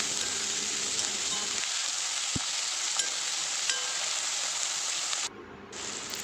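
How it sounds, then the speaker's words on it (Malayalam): Garlic, ginger, green chili and curry leaves sauté in oil for prawn biryani, giving a close, steady sizzle with a single sharp tap partway through. The sound drops off abruptly near the end, and no voice is heard. "ചെറുതായിട്ട് അരിഞ്ഞ് വെച്ചിരിക്കുന്ന വെളുത്തുള്ളി, ഇഞ്ചി, കൂടെ പച്ചമുളകും കറിവേപ്പിലയും കൂടി ഇടാം. നന്നായിട്ടൊന്ന് വഴറ്റിയെടുക്കാം"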